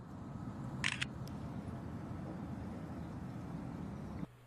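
A phone camera's shutter fires once, triggered by voice, a short, bright click heard over a quiet, steady background hum.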